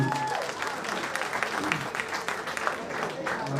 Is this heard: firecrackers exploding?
no